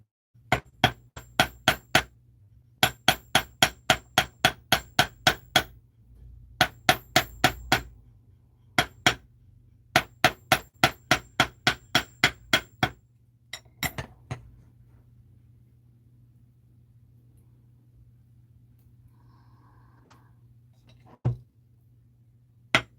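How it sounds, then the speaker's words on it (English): Rapid bursts of metallic hammer strikes on copper wire for hoop earrings, sharp ringing taps in quick runs with short pauses, then a few isolated hits after a quiet stretch. "I like to hammer both sides."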